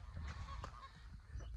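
An emu on a farm gives a low, honking call in a few rough bursts, close by, with no talking.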